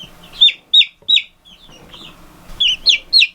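Baby chicks peep in a series of bright, close chirps, a quick run of calls, a short pause, then another cluster.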